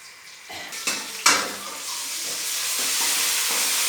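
Capsicum sabzi sizzling in a pan while a spoon scrapes and clanks against the metal, with a few sharp stirring knocks early on and a steady frying hiss that builds underneath.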